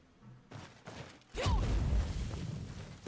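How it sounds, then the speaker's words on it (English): Fire breath shout in modded Skyrim gameplay, a brief rising whoosh followed by a loud, dense roaring blast of flame that holds and slowly fades, preceded by a few soft thumps. "Frost breath. But I got fire breath instead."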